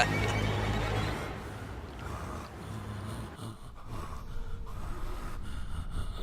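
A man breathes heavily over a phone line in the Castlevania: Lords of Shadow 2 video game, slow rasping snorts and gasps, close and fairly quiet, with a brief louder stretch at the start.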